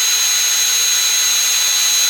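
A power drill whirring at high speed, spinning a model tire against sandpaper to wear the tread, a steady loud hiss-like whine held close and unbroken throughout.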